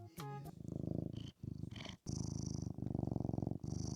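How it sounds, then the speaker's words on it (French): A cat purrs close to the microphone in steady rhythmic pulses, with a few brief pauses and no talking. "Super intéressant en tout cas cette interaction avec le chat"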